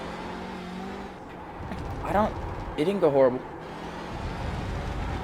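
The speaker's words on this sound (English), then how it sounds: "This is one of my first races in the TCR since I just got it" TCR race car in the iRacing video game, its engine droning steadily in the background while a person talks over it, the engine note rising briefly between phrases.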